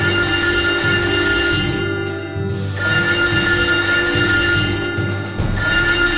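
A telephone bell rings in repeated bursts with short gaps between them, loud and close against a steady background hum.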